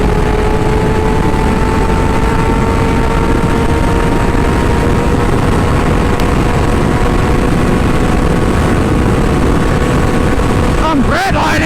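A Kawasaki 636 sport motorcycle engine is held near redline on a group ride, a loud, sustained, high-pitched droning whine with rushing wind noise that stays constant until a brief buffeting burst at the very end.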